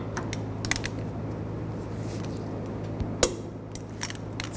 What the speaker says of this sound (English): And torque this bolt to 121 foot-pounds